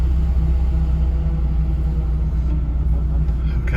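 A Toyota MR2 SW20 with a K24 engine swap gives off a steady, deep exhaust rumble from close by, with a constant low drone and no separate revs or talk.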